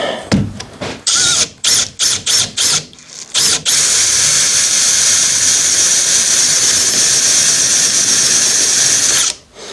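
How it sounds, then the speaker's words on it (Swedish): A power drill bores out a wall hole for an antenna cable during a Panasonic air-to-water heat pump install. Several short, loud stuttering bursts lead into a long continuous high-pitched whine, which stops sharply at the end. "Tänkte jag försöka borra upp det där hålet då."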